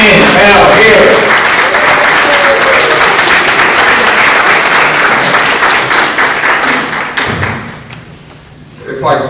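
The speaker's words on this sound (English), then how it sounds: "Give a round of applause for Ken," An audience at a minority health summit applauds Reverend Ken L. Harris, a loud burst of clapping with thuds that gradually thins and fades near the end.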